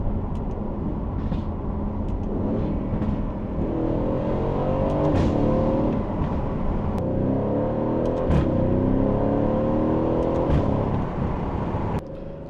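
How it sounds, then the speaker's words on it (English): An Aston Martin supercar engine revs hard through paddle-shifted gear changes. Each rise in pitch breaks off with a sharp crack at the shift, over several pulls, loud and close throughout. "They're so satisfying when you upshift and even more satisfying when you downshift."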